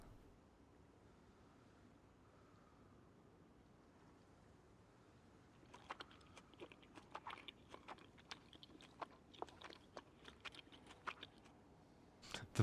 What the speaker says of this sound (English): The munching sound of him eating the peas was very satisfying for some reason